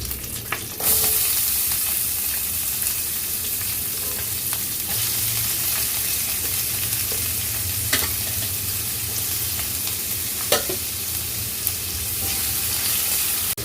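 Onions sauté steadily in hot oil, a continuous frying hiss with occasional stirring clinks and scrapes of a spoon against the pan.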